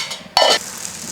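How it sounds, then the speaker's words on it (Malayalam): Oil poured onto a hot dosa griddle gives a sudden, loud sizzling burst that lasts a fraction of a second, then settles into a faint low crackle. "ദോശക്കല്ല് നന്നായിട്ട് ചൂടായിട്ടുണ്ടേ, നമ്മളതിലോട്ട് എണ്ണ ഒഴിച്ച് കൊടുക്കുക."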